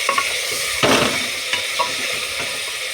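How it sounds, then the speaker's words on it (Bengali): Meat stir-fried in hot oil in a pan: a loud, steady sizzle with scraping stirs, one strong burst of frying near the start. "এবারে আমি এটাকে কষবো, নেড়ে চেড়ে নেবো যতক্ষণ না এর মধ্যে থেকে তেলটা ছেড়ে দেয়।"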